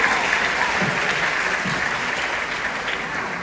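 Steady applause from an audience at a Hamilton musical event, a broad wash of clapping that holds at an even level for a few seconds.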